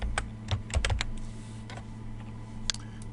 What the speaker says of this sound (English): So if I just type in a new name here,